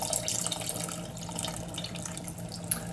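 Water tipped from a container into a pot of sausage and shrimp jambalaya, a steady close splashing pour that runs without a break and with no one talking.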